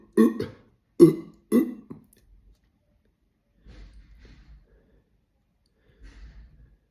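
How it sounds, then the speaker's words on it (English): Three loud, close burps in quick succession after drinking pear cactus water, followed by a pause and two faint low rumbles, otherwise quiet indoors. "I feel some burps coming up"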